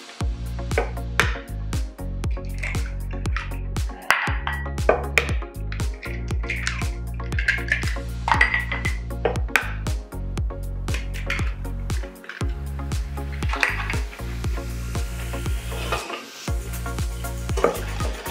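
Eggs and sugar are whisked in a bowl with quick, regular clicking strokes against the sides, a fast rhythmic clatter over a steady low hum, close and fairly loud.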